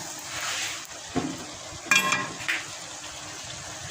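Okra stirred into a pan of cooked masala, a soft steady sizzle with a few scraping stir strokes and light clinks, heard close and alone without voices.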